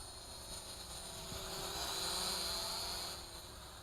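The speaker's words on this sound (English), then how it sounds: "Now again, this is a beginner's drone," A 4DRC F3 beginner GPS camera drone flies outdoors, its propellers giving a steady high-pitched whine that swells slightly as it passes closer, then eases off, with no talking.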